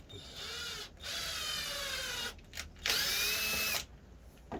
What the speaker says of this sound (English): Getting the screws in and out. Just working in and out of a couple.